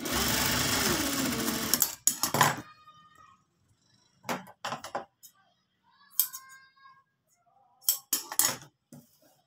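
A sewing machine stitches a shirt with a two-thread seam along the margin beside a cut cross strip, running in a loud steady burst for two seconds, then in several short separate runs with quiet gaps between.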